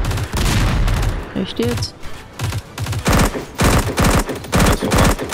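Rapid bursts of automatic gunfire from the survival video game Dysterra, loud and close, come in repeated volleys with brief pauses, and a player's voice exclaims briefly between them.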